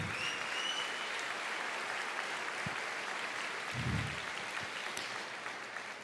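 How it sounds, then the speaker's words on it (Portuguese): A church congregation applauding, a steady wash of clapping from many hands, moderately distant and even, with a few louder thumps near the middle and no voices over it. "Aplauda o Senhor"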